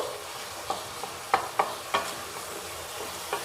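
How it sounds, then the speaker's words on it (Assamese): Cucumber softens in a pan for an Assamese alkali dish while a spatula stirs it, a low steady sizzle punctuated by several crisp taps and scrapes against the pan. Close, with no talking. "এতিয়া মই আৰু এবাৰ এনেকৈ লৰাই দিছোঁ।"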